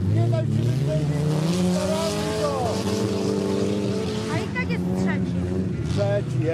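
Race cars in a video game roar continuously with rising and falling engine pitch and occasional tire squeal, loud and steady throughout while a person talks excitedly over them.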